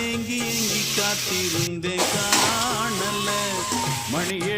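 Ginger-garlic paste and ground tomatoes sizzle steadily as they sauté in a hot pan while a voice talks over the cooking.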